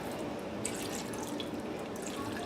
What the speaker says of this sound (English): pour in just a tad bit of water to kind of give it a little bit of broth